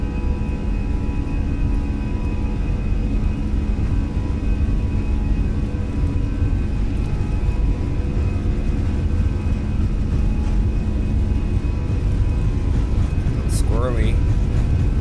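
Cockpit of an airliner lined up on the runway at Munich for takeoff to Paris: a steady, heavy engine roar and whir fills the cabin with no letup, and a brief rising chirp near the end.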